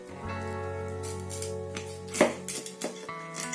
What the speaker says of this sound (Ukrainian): Скумбрію я буду нарізати.